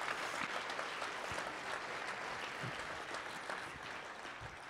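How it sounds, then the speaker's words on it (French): Audience at a hackathon closing ceremony applauds: dense, steady clapping from a crowd, sustained for the whole stretch at moderate level, with a few louder individual claps poking out. "Oui, vous pouvez applaudir."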